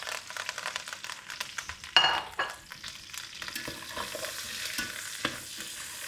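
Beef pieces for a Scouse stew cooking in a pot, a steady close sizzle and frying hiss with stirring scrapes and a sharper burst of spitting near the middle, no talk.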